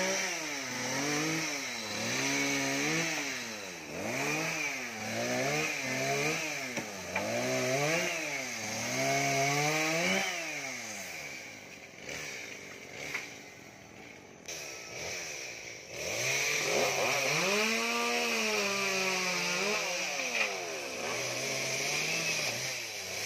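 A chainsaw cuts branches and treetops from two large rain trees, its engine rising and falling in repeated revving swells, then settling into a long, steady high whine near the end, loud and close.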